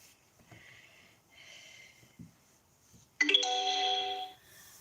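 A phone text message alert sounds abruptly as a short, loud, bright chime with sustained tones lasting about a second, following quiet room noise with faint breaths and rustles.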